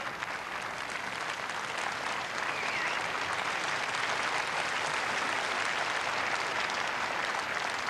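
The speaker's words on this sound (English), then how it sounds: "Sustained applause" A tennis crowd applauding in sustained, steady applause after a game won in a match between Bjorkman and Philippoussis, a dense even wash of clapping from a large stadium audience with no voices on top.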